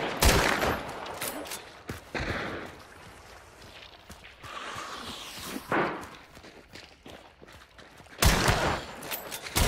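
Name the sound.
gunshot in Hunt: Showdown video game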